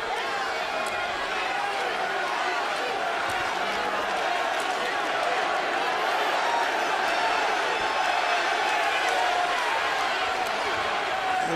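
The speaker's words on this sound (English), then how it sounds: "The crowd senses that Pavlik is getting himself back into the fight, and they're trying to help him get there." A boxing arena crowd roars steadily through a fight between Sergio Martinez and Kelly Pavlik, cheering on Pavlik as he works back into the bout, a dense, loud wall of voices with no pauses.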